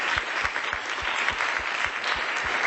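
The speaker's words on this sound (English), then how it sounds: "let's give them actually another round of applause to the full staff." An audience gives a round of applause for a full staff at a health equity gathering, a dense, steady clapping from many people with some louder hand claps standing out nearby.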